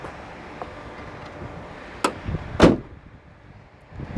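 A car door is opened on a long vehicle, heard as a sharp click of the latch followed a moment later by a louder thunk, against quiet background noise.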